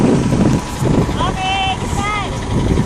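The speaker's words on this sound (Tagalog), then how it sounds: "Lakas ng hangin dito" Strong wind buffets the microphone with broadband rumble among the Bangui windmills in Ilocos Norte, steady throughout, while a few brief whistling tones sound faintly in the middle.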